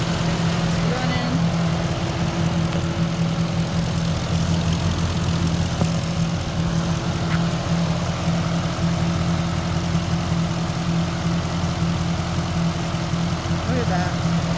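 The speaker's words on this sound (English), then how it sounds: "this is what the engine looks like, what it sounds like" A 2011 Ford Crown Victoria LX engine idles with a steady, even low hum that holds unchanged throughout, close by and fairly loud.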